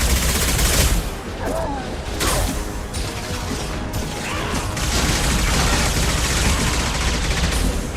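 Dense, sustained video-game gunfire from Mass Effect 2: loud overlapping rapid shots and mechanical clatter with occasional crashes, continuing throughout a heavy firefight.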